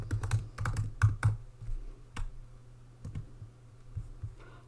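Rapid bursts of keystrokes on a computer keyboard while CSS code is typed, close and fairly quiet, with irregular clusters of clicks separated by short pauses.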